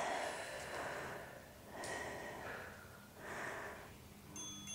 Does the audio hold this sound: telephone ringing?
no